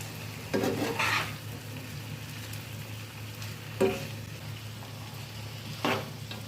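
Small washed chicken pieces frying in a pan for a red chilly chicken fry, a steady low sizzle with three bursts of spatula scraping and stirring close up.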